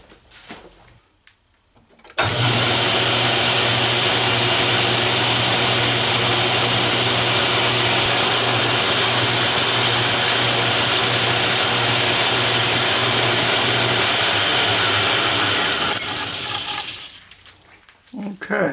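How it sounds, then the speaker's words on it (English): An Atlas lathe starts up and runs with a steady whirring, grinding drone for about fifteen seconds while drilling through with a 6mm drill, then winds down and stops. "drill it all the way through with a 6mm drill."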